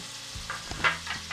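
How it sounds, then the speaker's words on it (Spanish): Chopped onion and sliced garlic frying in a pot, a low steady sizzle with a few brief stirring scrapes and clinks over about a second and a half, no talking. "Añadimos a la cacerola la cebolla troceada, los dos dientes de ajo laminados"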